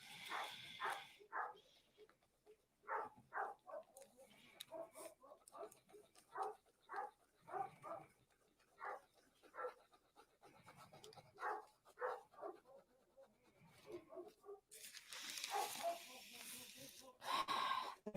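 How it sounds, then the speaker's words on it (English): Outdoor dogs barking repeatedly at a distance in a rural setting where coyotes roam, a steady run of sharp bursts with a louder, noisier stretch near the end. "I again apologize for my outside dogs."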